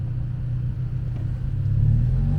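A Toyota Tacoma TRD Pro pulls away hard from a standstill, its deep engine rumble swelling as it accelerates, heard from inside the cab and steady in loudness.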